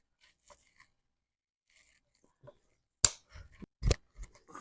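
Cutters snipping wire during a truck subwoofer install: faint handling noises at first, then two sharp close clips with rustling between them in an otherwise quiet space.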